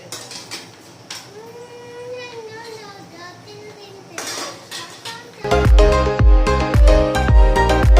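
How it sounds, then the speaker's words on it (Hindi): Pots, utensils and steel dishes being washed in a home kitchen, quiet at first, then loud clattering and clinking of metal against metal in rapid irregular bursts, with a voice heard faintly. "तब तक 2-4 बर्तन में वो साफ कर लेते हैं।"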